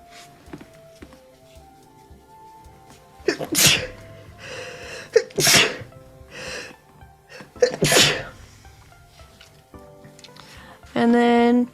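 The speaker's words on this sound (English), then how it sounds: "I have to sneeze." Several loud sneezes burst out amid quiet talk during a tabletop board game session of The Broken Cask, with faint background music and rustling between them.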